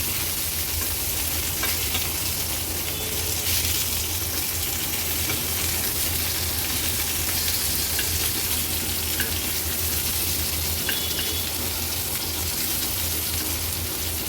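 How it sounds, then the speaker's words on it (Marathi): Capsicums cook in a pan, flipped over one by one, a dense constant sizzle and frying hiss with faint clinks, steady and close without speech. "आता ही शिमला मिरची आपण थोडीशी पलटून घेणार आहोत"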